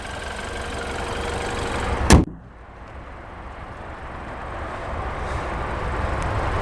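A 2014 BMW X1 sDrive28i engine idling as a steady, fairly loud drone, broken by one sharp knock near the start before the hum settles and slowly swells again.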